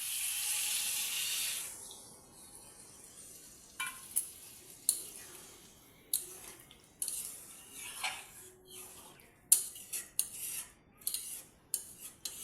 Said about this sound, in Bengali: এখন আমি এটার মধ্যে মটন বয়েল করে রাখা জলগুলিকে এটার মধ্যে দিয়ে দেবো।